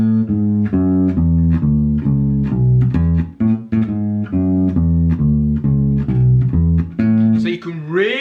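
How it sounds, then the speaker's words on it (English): A descending walking bass line on bass guitar, a two-bar major-scale pattern of steady plucked notes stepping down in even rhythm, loud and close, played alone. "this classic bass line works is it's just a walking bass line, but descending"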